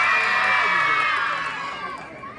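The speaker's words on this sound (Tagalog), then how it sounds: "Wala po bang malakas na hiyawan dyan?" A crowd at a beauty pageant in Binondo lets out a loud, sustained cheer with high shouting voices blended together, gradually easing over a couple of seconds.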